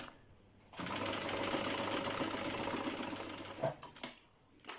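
Sewing machine running steadily as it stitches a seam on trousers with a side seam pocket, close and even for about three seconds, then stopping with a few short clicks and bumps.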